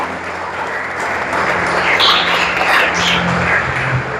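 A church congregation claps together in sustained, dense applause that stays steady and fairly loud throughout, with a faint voice or two mixed into the crowd.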